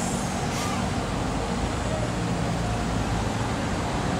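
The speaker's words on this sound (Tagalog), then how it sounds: "Traffic, guys." Road traffic with trucks and buses forms a loud, continuous roar of engines and tyres on a busy morning street heading toward Cubao.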